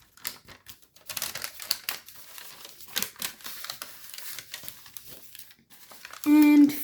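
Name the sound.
paper being folded into an origami jet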